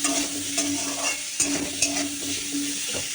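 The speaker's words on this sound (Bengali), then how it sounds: "একটু ভাজা ভাজা করে নিই" Potatoes with salt and turmeric frying in a pan, a steady sizzle with occasional stirring scrapes and light clinks, close and continuous with no talk.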